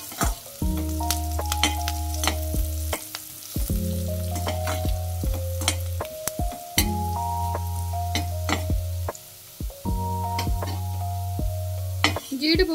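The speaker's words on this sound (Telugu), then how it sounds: "జీడిపప్పు కొంచెం వేగాలి." Small chopped cashew pieces frying in a lightly heated pan for curry leaf rice, a steady close sizzle broken by repeated scraping stirs and taps of a spatula, continuing with no voice.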